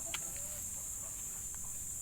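Backyard chickens cluck in short, faint bursts over a steady hiss, with a few soft calls scattered through the moment and no talking.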